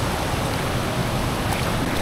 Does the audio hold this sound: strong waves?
yes